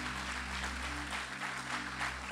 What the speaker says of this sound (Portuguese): Vamos aplaudir a Jesus pela vida dessa equipe de adoração.